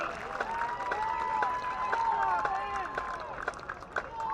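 Crowd at an EMCC football game against MS Delta applauds the EMCC Mighty Lion Band, a broad steady wash of clapping and cheering under a bright band tone and scattered voices.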